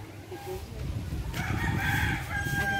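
A rooster crows partway through, fairly close, over a low rumble of background noise and faint clucking.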